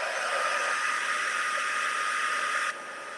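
A heat gun blows a steady, loud whooshing whir while melting Stampin' Up! embossing powder. It runs continuously and drops to a lower, softer tone near the end.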